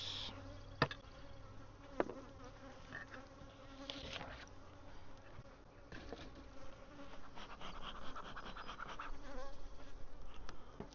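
Honeybees swarm densely around an open hive during a swarm check, a steady close buzz that thickens slightly toward the end, with a couple of sharp knocks of hive equipment early on.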